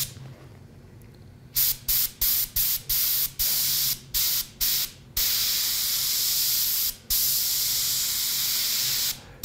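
A spray gun sprays paint onto a latex mask in quick hissing bursts, several short pulses in a row and then longer steady sprays, close and loud with no talking.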